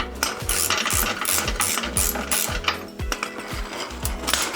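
A ratchet wrench clicks in quick, even bursts while snugging transmission mount bolts beneath a Jeep Cherokee XJ, each stroke giving a sharp metallic rattle, close and loud, repeating about ten times.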